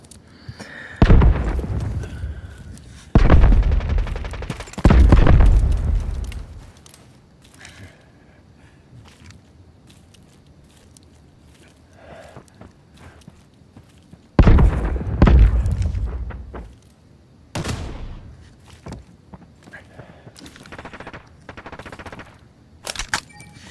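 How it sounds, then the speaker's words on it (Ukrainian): Loud bursts of rapid gunfire in a video game's 3v3 mode erupt in several separate volleys, with quieter stretches of low background noise between them. "Знову стріляються."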